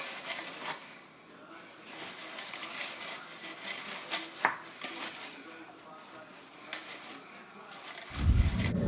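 Chocolate salami mixture stirred in a kitchen bowl: soft, uneven scraping and tapping keep up steadily, with one sharp clack near the middle and a louder thump at the very end.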